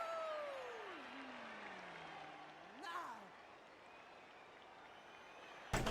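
A house cat gives two drawn-out meows with wavering, sliding pitch, fairly close, over faint background noise, followed by a soft thump at the end.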